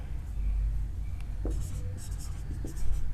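Pen or chalk writing out a chemistry formula, quiet scratchy strokes in short bursts with a few light taps over a low background hum.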